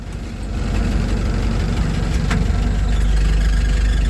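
The engine of a 1946 Willys CJ-2a jeep runs close and loud, a rough, steady rumble that builds slightly in the first second and then holds with a low, throbbing knock throughout.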